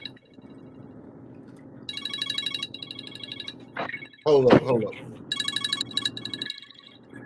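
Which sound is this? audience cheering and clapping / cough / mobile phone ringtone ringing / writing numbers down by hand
mobile phone ringtone ringing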